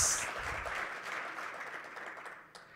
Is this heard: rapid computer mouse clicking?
no